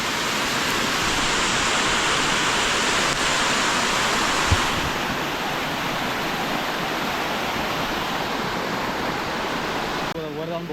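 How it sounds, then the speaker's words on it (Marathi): A step waterfall near Korigad in Raigad pours down stone steps. It gives a loud, steady rushing roar that fills the whole stretch without letting up. "मस्त वॉटरफॉल आहे एकदम भारी आहे कोरीगडला अशा पायऱ्यांवरनं पाणी येतो"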